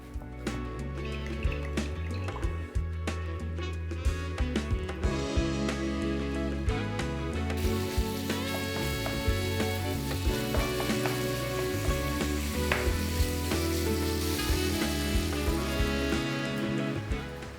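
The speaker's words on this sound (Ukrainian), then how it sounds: "обсмажу десь 30 секунд, а потім заливаю водою і починаю все варити" Food sizzles and crackles steadily in a hot pan, with a louder surge of hissing partway through as water is added.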